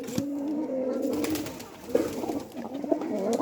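Pigeons in a cage coo close by, a steady, throaty, rolling cooing that carries on throughout with small pauses and no talking.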